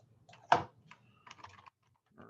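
Typing on a computer keyboard while working in Maya, heard as a few short bursts of keystrokes with one louder clack near the start, then scattered quieter taps and pauses.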